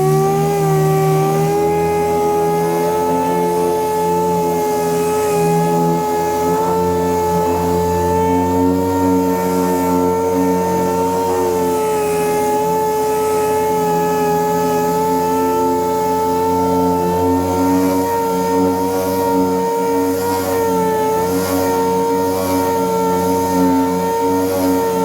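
McGraw 6-inch dual action sander stripping paint off a truck door, giving a loud, steady motorized whir with a faint rattle that runs unbroken throughout, with no talking.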